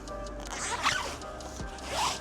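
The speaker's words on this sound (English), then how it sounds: "I'm going to go ahead and separate the zipper and do the same thing" A zipper on a custom shooting mat is pulled apart in a couple of quick, rasping strokes, close and fairly quiet with no talking.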